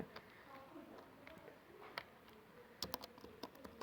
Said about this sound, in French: essayez d'écrire trop vite sur le clavier